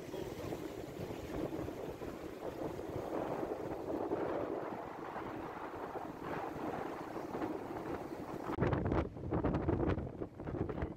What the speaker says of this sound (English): And just how windy it is.